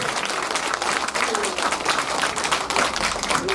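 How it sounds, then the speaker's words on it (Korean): Steady applause from an audience at a charity donation concert, dense and continuous throughout, with a voice briefly audible under the clapping. "심한 응원의 박수 부탁드리겠습니다"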